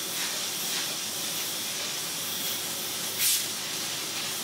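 A cheap no-brand airbrush compressor runs with the airbrush spraying, giving a steady broadband hiss that holds level throughout, with one brief louder burst of air partway through and no talking.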